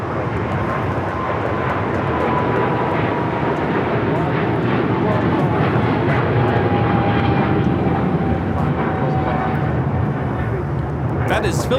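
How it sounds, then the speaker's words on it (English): A Philippine Airlines Boeing 777-300ER takes off from LAX, a loud, steady jet engine roar filling the whole stretch with a slowly shifting whine, heard alone with no talk. "That is Philippine Airlines 113 taking off to Manila on the 777-300ER Mabuhay."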